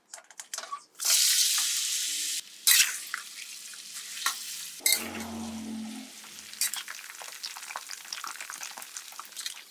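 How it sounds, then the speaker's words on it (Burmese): Chicken feet dropped into a pot of hot oil burst into loud sizzling and frying, settling into steadier crackling and bubbling with occasional clinks and stirring noises, close up with no talking. "အိုးထဲကိုစီထည့်ပြီးတော့ကြက်ချောက်လေးတွေကိုကြော်ပေးပါမယ်"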